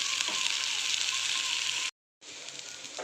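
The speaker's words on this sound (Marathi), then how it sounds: "आपली भाजी चांगली मस्तपैकी आता फ्राय झालेली आहे" Capsicum strips, cut vertically, frying in a pan with a steady close broadband sizzle that cuts out briefly, then resumes at the same level.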